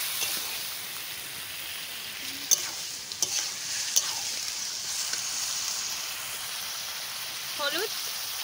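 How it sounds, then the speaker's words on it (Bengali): Meat sizzles and hisses in a spiced pan as it is stirred, a steady bright frying noise broken by a few sharp clinks of a utensil against the pan. "এবারে আমি মাংসটা দিয়ে দিচ্ছি"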